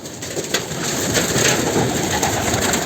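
A male pigeon coos in a village loft, a close, continuous throaty murmur with soft rhythmic pulses and no talk over it.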